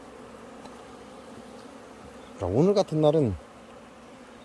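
Honeybees hum around hives at an apiary on a warm, sunny autumn day, a faint steady drone that continues beneath a man's short spoken phrase.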